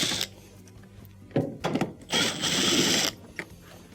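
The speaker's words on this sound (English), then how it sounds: "underneath here we have 2 T20 Torx screws that have to be taken out." A power driver backs two T20 Torx screws out of a washing machine console during a door latch repair, with short whirring bursts and a longer run of mechanical grinding, close and fairly loud.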